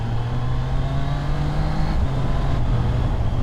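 A Triumph Herald's engine pulls at quarter throttle, a steady droning hum with a constant low note and road rumble, close and continuous without talk.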